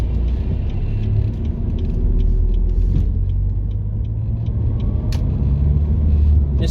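A 20-year-old Ford Mondeo Mk3 estate is driving, heard from inside as a steady low engine and road rumble with faint tyre noise and a few small rattles and clicks, without talk.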